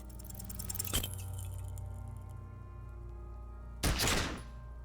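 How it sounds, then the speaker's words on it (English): A gunshot explosion in the video game Disco Elysium: two sharp, loud blasts about three seconds apart over a low steady background hum, the second followed by a brief ringing tail. "A plume of smoke erupts from the barrel. Your hand goes numb from the explosion."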